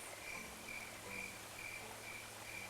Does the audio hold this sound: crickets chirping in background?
yes